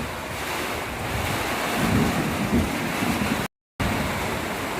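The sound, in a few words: wind and rain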